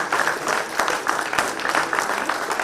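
A conference audience in Nigeria keeps clapping after a keynote address, loud, sustained applause with a brisk, slightly pulsing rhythm throughout.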